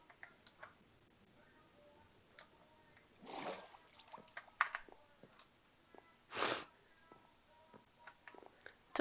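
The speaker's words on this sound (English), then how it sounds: "Hear lots of splashing down here." Water splashing in a Minecraft game, heard as a couple of soft, brief splashy bursts over a quiet background with faint ticking clicks scattered throughout.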